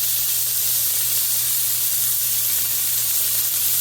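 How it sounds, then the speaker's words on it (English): Meat sizzles and browns in a hot wok for American-style Chinese cooking, a steady, loud, close hiss that runs unbroken throughout with no talking. "Just kind of spread your meat out evenly there and let it brown."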